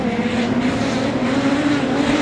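Production sedans racing on a circuit, with a loud, continuous engine drone passing close by and holding a steady pitch, with no talking.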